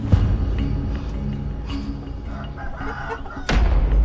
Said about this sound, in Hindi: अच्छा, ये मुर्गियां पाली हुई है ना, इनकी आवाज थी।